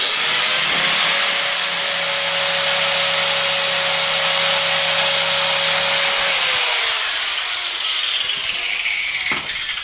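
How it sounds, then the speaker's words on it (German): A grinding disc spins against a metal tripod adapter, clearing out its thread: a steady, loud abrasive whine with a sustained tone that holds for several seconds, then cuts off as the grinder winds down. "die Scheibe dreht sich jetzt so rum und schleift aus dem Gewinde heraus"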